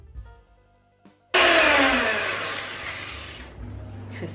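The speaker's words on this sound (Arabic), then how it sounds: "نضربها في الخلاط." A kitchen blender whirs loudly as it mixes keto, gluten-free fennel and anise cake batter with eggs, kicking in abruptly after a quiet moment and running steadily for a few seconds before easing slightly.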